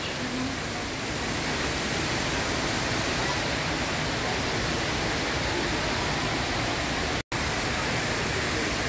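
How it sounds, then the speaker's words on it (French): Garden waterfalls in Singapore pour in a dense, steady roar of rushing water, loud and close, cut off by one brief dropout near the end. "tout le jardin avec des cascades d'eau incroyables."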